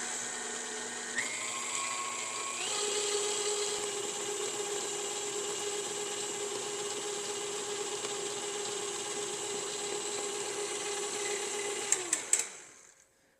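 An electric stand mixer whips royal icing made with meringue powder, a continuous close motor whine with a shifting pitch that runs steadily for about twelve seconds before stopping with a few clicks.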